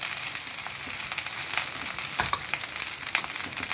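Egg fried rice sizzling steadily in an oily pan, a continuous bright crackle with occasional stirring scrapes, close and alone without talk.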